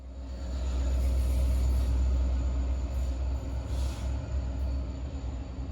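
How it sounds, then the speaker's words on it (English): Oncoming freight train hauling tank cars, a deep rumbling roll that builds and holds steady, with faint high squeals and hisses riding over it, heard from nearby outdoors. "Train!"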